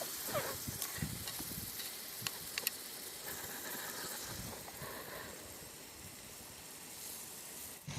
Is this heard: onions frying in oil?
yes